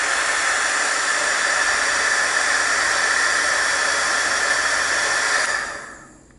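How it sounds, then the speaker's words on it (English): A heat tool blasts steadily to dry a handmade Halloween artist trading card, a loud continuous rushing hiss that holds evenly for several seconds before cutting off and fading. "we're just going to heat it really quick to dry it."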